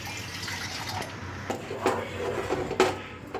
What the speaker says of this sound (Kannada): ಇವಾಗ ಇದಕ್ಕೆ ನೀರು ಎಷ್ಟು ಬೇಕೋ ಅಷ್ಟು ಹಾಕ್ಕೋಬೇಕು.